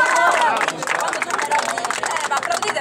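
Studio audience in a televised Italian political talk show breaking into applause, loud dense clapping up front that thins and ebbs, mixed with crowd murmur.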